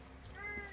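A cat gives a single short, faint meow, quiet and close, over a low background hum.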